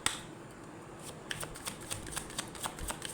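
A tarot deck is shuffled by hand at close range, giving soft riffling and a run of sharp card snaps and flicks as cards are drawn, quiet and with no talk.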